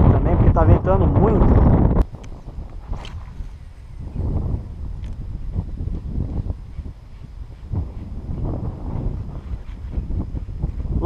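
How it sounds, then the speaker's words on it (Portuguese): Strong wind buffets the microphone during a fishing outing, a loud roar at first that drops to a gusty rumble, with people talking over it. "porque tá ventando muito"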